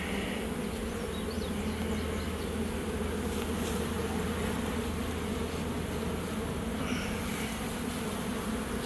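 Honey bees buzzing steadily in an open beehive on a hot day, a dense, constant close-up hum with no voices.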